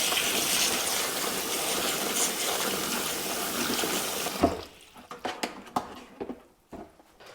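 Freshly harvested cherries being washed in a bowl of water, a steady sloshing, trickling wash for several seconds, then scattered close splashes and drips as the water settles.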